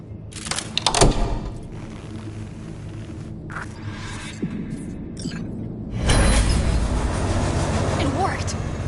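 A train in the Cyberpunk video game pulls away with a loud, steady low rumble and hum. Brief clanks come at the start, and the rumble swells as it gathers pace. Voices are heard over the sound.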